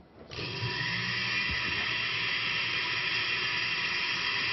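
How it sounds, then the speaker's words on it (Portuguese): A blender switches on and runs continuously, a loud high-pitched whirring whine that stays steady after a brief start. "Antigamente você ligava o liquidificador e fazia shhh na televisão"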